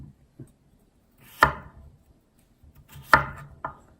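A knife chops through an onion into strips on a board, with two sharp, close strikes and a softer third cut separated by quiet pauses.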